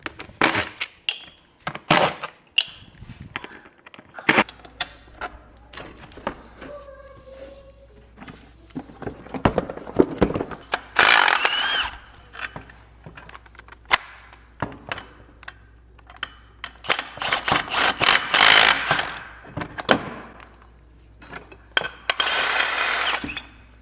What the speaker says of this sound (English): I'm going to pop this clutch cover off and mess with it by hand and see how it acts.